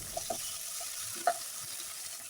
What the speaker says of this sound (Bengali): তো মশলাটাকে কিছুক্ষণ নেড়ে চেড়ে কষিয়ে নেব আমি